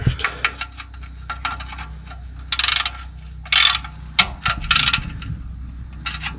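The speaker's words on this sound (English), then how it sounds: "Actually, I want to get that ratchet in. Tighten that up." A hand ratchet tightens a bolt during a vehicle oil change: uneven bursts of close, sharp metallic clicking, separated by short pauses and occasional knocks, with no talk.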